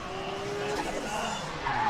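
A Toyota JZX90 Mark II drift car slides through a qualifying run in Japan, tires skidding and squealing steadily over a roaring engine for the whole moment.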